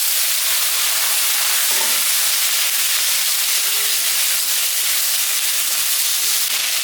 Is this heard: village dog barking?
no